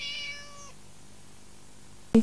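A cat gives a single drawn-out meow in a pet food commercial. A quiet, empty pause follows, then a brief loud thump closes the clip.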